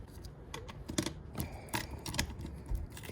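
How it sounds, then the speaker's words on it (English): Screws being driven into a front license plate bracket on a BMW i8, a close series of small irregular clicks and taps in quick bursts, faint and without speech. "Okay, screwing them in."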